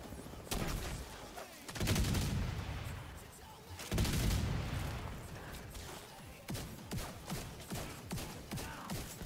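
Heavy gunfire in the video game The Division 2 during a legendary Tidal Basin mission, with loud booming volleys early on followed by rapid repeated shots close by.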